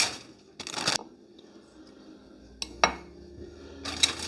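Large scallop shells clink and clatter in short bursts as they are handled on a kitchen counter, with quiet pauses between the clusters of hard, close knocks.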